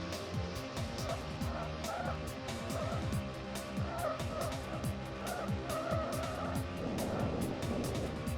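Engine note from a car in the 5 Star Racing video game: a continuous buzzing motor drone with rising and falling pitch and occasional tyre squeal runs throughout, fairly loud, with no talking.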